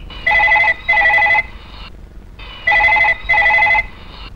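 A telephone rings indoors in a house, two double-ring bursts separated by a short pause, loud and close with no talk over it.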